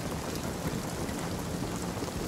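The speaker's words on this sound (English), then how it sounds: "Tell them to make the rain stop." Rain pours steadily in a dense, even hiss, constant and moderately loud with no break, during a battle scene.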